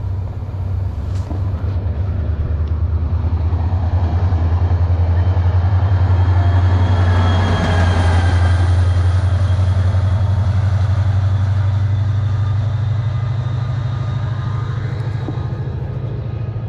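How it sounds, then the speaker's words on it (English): A SunRail commuter train rumbles past up close near DeLand, Florida, a heavy low roar steady throughout with metallic wheel squeal and clatter rising in the middle, no voices. "here comes the commuter train."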